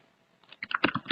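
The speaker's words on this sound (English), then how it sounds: "Let me type PDF crop" Quick bursts of keystrokes on a computer keyboard as a command is typed into a terminal, starting faint and building into a brisk, close, uneven clatter of clicks.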